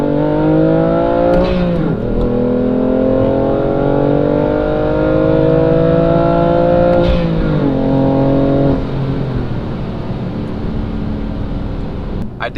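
A BMW F80 M3 accelerating up a cold mountain road, loud and close from the cabin, engine tone climbing steadily through the gears with brief dips at each shift, no speech.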